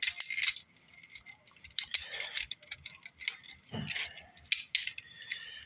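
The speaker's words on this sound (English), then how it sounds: "as you can tell by the ratchet sounds, it does have a hard ratchet" Ratcheting joints of a Silverbolt transforming toy figure click repeatedly, close and fairly faint, in short bursts of sharp ticks with small pauses between them.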